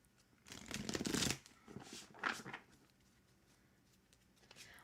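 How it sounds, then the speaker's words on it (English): Tarot cards shuffled close by, a quick riffling burst followed by a few softer flicks and taps in a quiet room. "One more shuffle."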